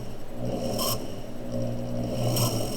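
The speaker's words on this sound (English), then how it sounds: "I think that's the motor making the noise." Motor of a watchmaker's pivot polisher running, a continuous close rasping, scraping drone with steady hum and two brief brighter bursts of grinding, no voices.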